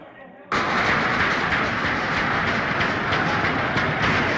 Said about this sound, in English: heavy gunfire breaks up a funeral for a dead protester